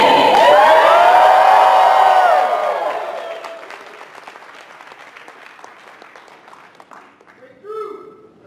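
An audience at a live stage talk in a hall screams, cheers and applauds loudly, then the roar fades to scattered clapping and murmurs, with a voice rising near the end.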